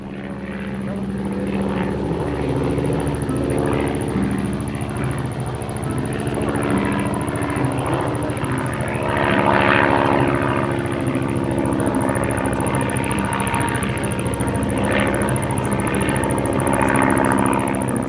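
A Tiger Moth biplane flying aerobatics gives a continuous propeller-engine drone whose pitch and loudness swell and fade with the manoeuvres, heard alongside ongoing speech.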